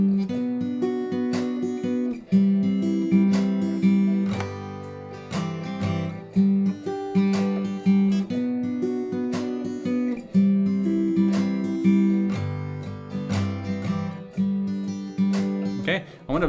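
An acoustic guitar picks chords on only the thinnest three strings in a country style, clear ringing note patterns changing chord every couple of seconds, played alone without talk.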